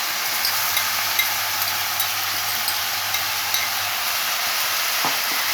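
Spinach and fenugreek leaves sizzle in a hot kadhai, a dense steady hiss with faint periodic stirring scrapes and clicks, close and continuous.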